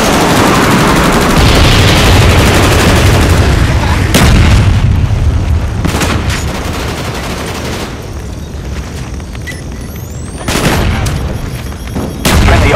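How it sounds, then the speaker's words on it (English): Repeated heavy booms and rumbling blasts from a napalm strike in Call of Duty: Black Ops on the Hanoi map, with sharp explosive hits near 4, 6 and 10.5 seconds over constant loud battle noise and distant gunfire. "Friendly napalm strike on the way."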